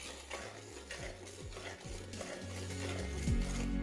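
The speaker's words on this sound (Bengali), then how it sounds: "এবার এটাকে আপনারা এইভাবেই কষাতে থাকুন যতক্ষণ না সর্ষের কাঁচা গন্ধটা একদম চলে যাচ্ছে।" Spatula scraping and stirring fish in a thick mustard masala in a pan, with repeated rhythmic scrapes against the metal over a soft sizzle, close and steady.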